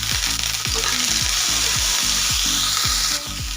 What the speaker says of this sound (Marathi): अशा पद्धतीने तेलामध्ये आंबळ भाजून घेतले ना एकदम असे खरपूस लागतात खायला भाजीमध्ये।